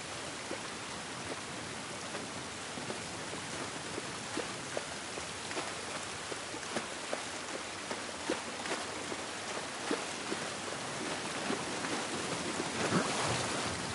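Steady rain falls outdoors in The Last of Us Part 1, a continuous hiss with scattered pattering drops and occasional louder splashes, even and moderately faint throughout with no talk.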